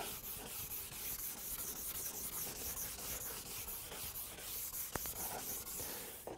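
A ski base is polished with fine nylon in quick, steady rubbing strokes, a soft repetitive brushing scrape heard alone and close.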